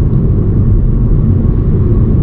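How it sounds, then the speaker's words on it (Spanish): Inside the cabin of a 2022 Hyundai i30 with a 1.5 DPI engine, a steady low rolling roar of tyre and road noise fills the space, with a soft engine hum beneath. It stays continuous and even, with no one speaking. "Apenas tenemos ruido del motor en el interior del coche, tenemos ruido de rodadura un poco"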